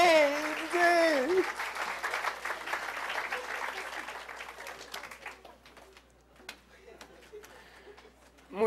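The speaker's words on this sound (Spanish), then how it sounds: "¡Un aplauso, por favor!" Applause from a crowd at a live science show, starting after a brief shout and continuing as scattered, thinning claps that fade toward the end, with background voices mixed in.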